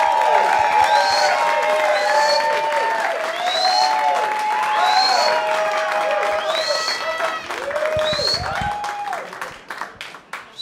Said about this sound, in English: Make some noise for Ken Krantz, everybody!